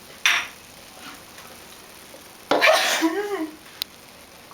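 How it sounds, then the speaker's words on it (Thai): A cook sneezes while roasting shrimp paste with chili. A brief first sneeze is followed by a louder, fuller sneeze that trails into a throaty, wavering vocal sound, then a small clink, in an otherwise quiet kitchen. "ของอร่อยทำทีไรต้องจามทุกที"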